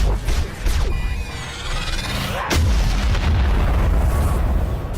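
A loud explosion goes off in the video game Manticore amid booming artillery-like fire and crackling bursts, a dense, continuous roar of blasts heard alone.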